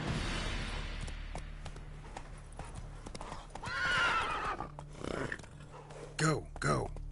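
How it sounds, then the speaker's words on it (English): Roach, the horse in The Witcher 3 video game, gallops with a rapid clip-clop of hooves, then gives two short, sharp whinnies near the end, all at a modest level. "Come on, Roach."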